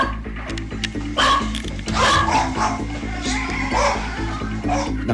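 Several pet dogs yip and bark excitedly at feeding time in a home, with overlapping barks and whimpers repeating throughout over steady low background noise, fairly close and loud.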